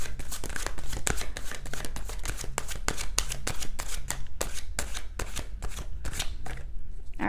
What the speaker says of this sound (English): I'm going to shuffle the other side of the deck